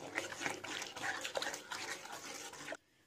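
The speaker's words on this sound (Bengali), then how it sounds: "এবারে ভালো করে নেড়ে নেব।" Semolina and water being stirred in a pan over a medium flame, a close, wet, squelching churn with irregular scraping strokes, steady for a few seconds before stopping abruptly.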